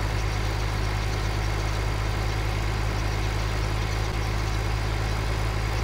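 Tractor engine idling in the Farming Simulator 2013 video game, a steady low drone with a constant hum that runs unbroken and fairly loud throughout, with no talk over it.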